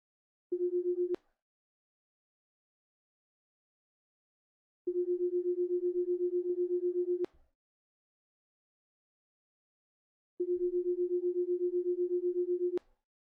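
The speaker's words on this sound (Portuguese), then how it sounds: "vamos também ouvir o som formado por esse processo de interferência" A pure 445 Hz test tone modulated at 10 Hz produces a rapid, fluttering beat, heard as three separate steady bursts of roughly half a second, two and a half seconds and two and a half seconds with silence between.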